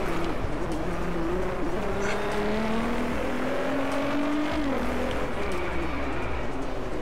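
A Nissan GT-R NISMO racing in the video game Driveclub, its engine droning loud and steady with rising and falling revs as it shifts, under constant road and wind noise.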